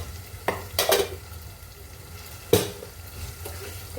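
Masala paste roasting and being stirred in a pan, with a low steady sizzle underneath and a few sharp scraping strokes of the spoon against the pan, close and moderately loud.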